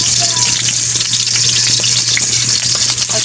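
Garlic goes into cooking oil in a pan, producing a loud, continuous close-up sizzle with light crackles and a low steady hum beneath.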